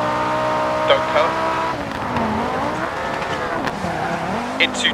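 Audi quattro rally car engine in DiRT Rally on the Baumholder stage, a loud close harmonic roar rising and falling through gear changes, with brief tire squeals and a co-driver's pace-note voice over it.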